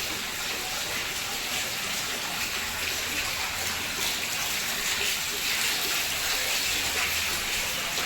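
Heavy monsoon rainwater overflows a flat roof terrace and pours down a flight of stairs, a loud, steady, broadband rush of gushing water that runs unbroken throughout with no voices.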